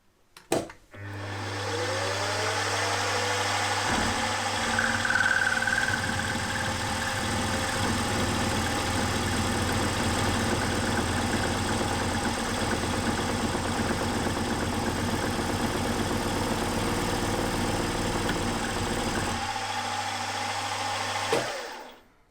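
A milling machine cuts a metal lifter block for a V-twin engine, a steady motor whine with a continuous grinding, chattering cut that starts and stops abruptly at each end.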